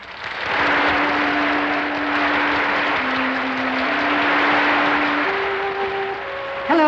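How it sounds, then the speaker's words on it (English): Studio audience applause greets a character's entrance in a 1965 radio drama, a dense, steady wash of clapping that holds loud for several seconds, with a sustained musical tone running beneath it. "Wanda enters to applause."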